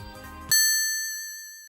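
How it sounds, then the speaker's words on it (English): A single high-pitched chiming ding from Sonic the Hedgehog CD, later the Hyper Ring power-up sound in Sonic Mania, rings out clearly and sustains with a slight wavering shimmer for about a second before ending. "a very high-pitched ding sound later used in Sonic Mania for the Hyper Ring power-up,"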